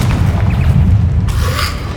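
A Confringo fire spell bursts in Hogwarts Legacy, a loud deep boom with a low rumbling body and a brief crackling flare as it fades.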